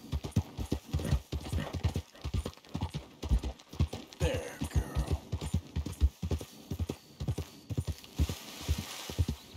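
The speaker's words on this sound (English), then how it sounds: "Our horse." Horse hooves clip-clopping in Red Dead Redemption 2, a steady rhythmic series of close hoof thuds with faint ambient background.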